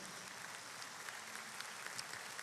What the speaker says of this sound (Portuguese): Uma salva de palmas para o Felipe Breder